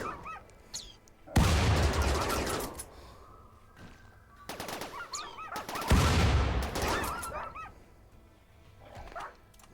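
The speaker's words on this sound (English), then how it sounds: "I'm using air burst grenades." Air burst grenades detonate in the video game Rimworld: two loud, heavy booms a few seconds apart, each trailing into a rumbling, crackling tail, with sharp chirping and yelping game effects scattered between them.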